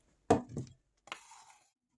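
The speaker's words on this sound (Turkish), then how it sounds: "Domates ve soğanları ortadan dörde tam kesilmeyecek şekilde bölüyorum" Kitchen knife cutting tomatoes and onions into quarters on a board: two or three close, crisp chops followed by a short sliding slice, quiet and isolated with no voices.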